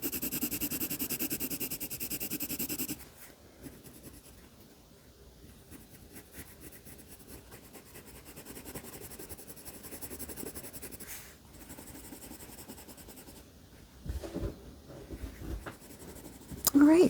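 A pencil drawing and shading on paper for a flip-flop picture, scratchy rubbing strokes in bursts, close and fairly quiet, with a person talking over parts of it.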